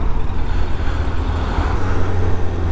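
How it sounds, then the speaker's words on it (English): Steady, loud low road rumble and engine drone surround a Suzuki Bandit motorcycle crawling through heavy traffic, with wind and vibration noise and no talk. "This traffic's like this for 16 days."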